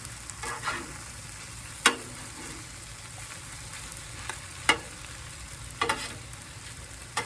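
Egg stir-fried with chicken teriyaki on a flat iron griddle, a steady low sizzle broken by a few sharp scraping clacks of a spatula against the metal surface, with no talking.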